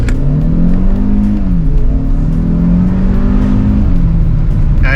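Turbo petrol engine of a 2024 Hyundai Creta SX(O) with DCT gearbox accelerating, a loud steady drone with rising and shifting pitch heard from inside the cabin with a window slightly open, continuous throughout.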